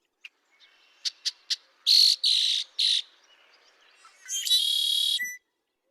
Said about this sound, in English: The female song.